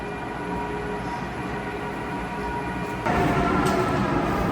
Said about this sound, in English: So they're powering down the tram, it sounds like.